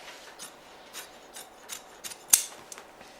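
Scissors cutting upholstery fabric by hand, a series of close, crisp snips and rasping blade strokes spaced irregularly, ending with one sharp louder clip, heard alone without talk.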